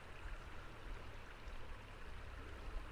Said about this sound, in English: Comforting sound of the water.